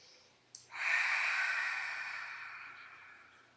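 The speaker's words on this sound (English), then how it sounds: "We'll take a clearing breath in and out first." One slow, deep clearing breath, a short sharp intake followed by a long, soft exhale that fades gradually, close and quiet with no talking.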